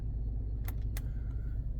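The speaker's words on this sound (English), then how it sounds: "So you're inside the vehicle. I got it idling." German car idling, heard from inside the cabin: a steady low rumble that stays even throughout, broken by two brief soft clicks near the start.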